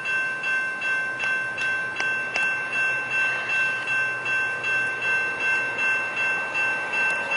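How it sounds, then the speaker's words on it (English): A northbound Coaster commuter train rolls past at Del Mar, its wheels clicking rhythmically over rail joints with a steady pulsing rumble and a sustained high tone, fairly loud and close. "Here comes the northbound coaster,"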